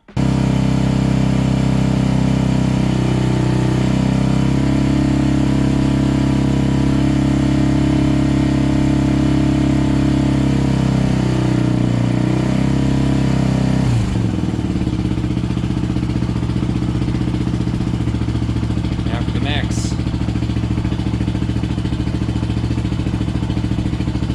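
Modified motorcycle engine with exhaust inserts held steady at 4,000 RPM, a loud continuous droning hum close up with a slight shift in tone partway through, no talk.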